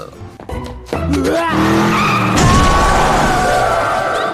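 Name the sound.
car skidding and hitting a man, movie sound effect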